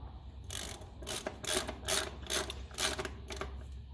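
Wrench ratcheting a nut tight on a Massey Ferguson 35 tractor, a series of close, rhythmic metallic clicking strokes, roughly eight quick pulls over a low background rumble, no talking.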